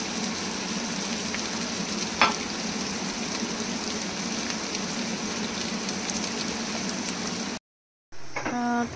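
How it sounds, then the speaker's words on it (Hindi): Onions frying in a pan for a mutton rogan josh, a steady, soft, close sizzle with one brief tap partway through and a short dropout near the end. "आप देख सकते हैं हमारे जो प्याज हैं फ्राई होने में 10-15 मिनट लग जाएंगे"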